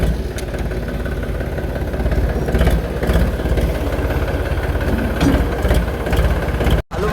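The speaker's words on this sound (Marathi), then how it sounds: "डायरेक्ट ट्रॅक्टरवरून बसलोय आणि ट्रॅक्टर घेऊन जाणार आहे प्लॉटमध्ये" A farm tractor rumbles along toward the field plot, its engine running steadily and close with a low, throbbing pulse, briefly dropping out near the end before picking back up.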